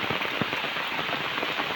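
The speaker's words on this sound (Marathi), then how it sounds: "पाऊस तर बघा किती जोरदार" Heavy rain pours steadily during crab catching in the Konkan, a dense continuous hiss of drops drumming on surfaces, loud and unbroken with no voices.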